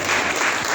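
A church congregation applauds during a Spanish-language worship service, a dense, steady burst of many hands clapping together, loud and close, with no voices over it.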